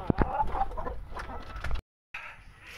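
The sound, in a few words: chicken clucking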